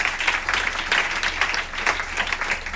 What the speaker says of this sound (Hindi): वरुण सर, अरविंद सर, रोशन सर के लिए ताली होना चाहिए।